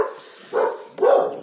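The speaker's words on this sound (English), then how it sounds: "all the dogs decide to bark" Several dogs bark nearby in two short bursts, moderately loud, with a brief pause between them; no talking.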